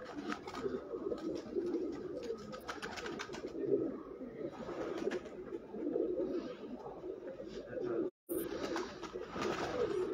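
Pigeons coo softly and repeatedly at close range in a quiet setting, their low rolling calls overlapping with faint rustling and a brief dropout near the end.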